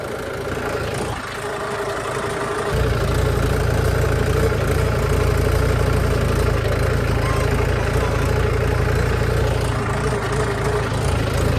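A tractor engine runs steadily close by, a loud low rumble that swells a few seconds in and then holds, under some faint talk.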